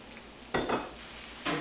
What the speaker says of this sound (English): let's add the mushrooms right inside now.